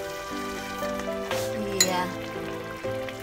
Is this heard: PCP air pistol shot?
no